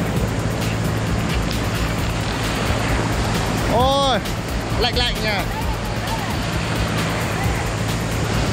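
Fairly big waves break and wash along Sầm Sơn beach on an early morning, a steady roar of surf close by with wind noise over it.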